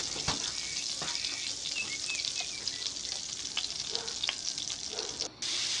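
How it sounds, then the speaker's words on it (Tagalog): Melted butter and olive oil sizzle in a frying pan, a steady bright crackle with small pops and occasional clinks of a utensil, heard alone and close without talk. "Hayaang malusaw ang butter, saka ilagay ang 2 tablespoons ng olive oil."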